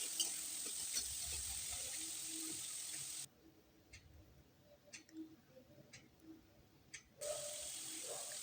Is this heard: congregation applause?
no